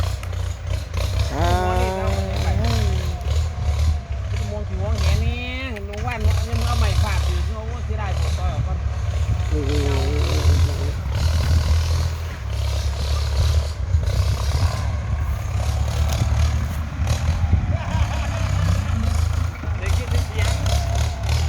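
A walk-behind tractor engine runs in a rice field, a steady low chugging drone that continues throughout while someone talks over it and outdoor sounds come and go.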